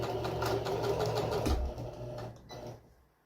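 A sewing machine runs steadily, stitching a French seam in a fast, even mechanical whir for about two seconds before slowing and stopping, close and clear.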